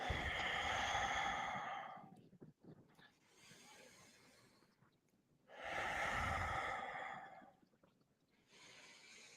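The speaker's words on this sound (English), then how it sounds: "a beautiful, pleasurable inhale all the way, and your stomach expands as you do it" Slow, deep breaths, two long loud airy exhales separated by quieter, drawn-out inhales, close to the microphone with no other sound.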